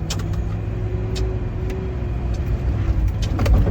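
A Toyota FJ off-road vehicle climbs a steepening trail in low range third gear at about 20 mph and 2,800 RPM, its engine giving a loud, steady, close-up rumble, with occasional knocks and rattles on top.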